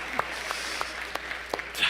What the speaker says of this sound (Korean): 우리 하나님께 영광의 박수 올려드려야 되겠습니다